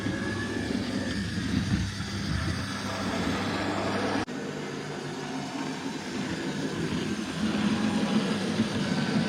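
Model railway locomotives running on a layout with a fiddle yard, a continuous close rumbling whir of motors and wheels on track, steady throughout with a brief dip midway.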